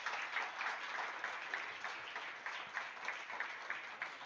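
Church congregation clapping during a sermon, a soft continuous patter of many hands with a faintly pulsing rhythm, distant and quiet.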